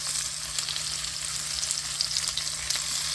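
Onion sizzles and fries in hot oil in a pan with garlic for an eggplant and spinach curry, a steady bright crackling hiss heard close up without talk.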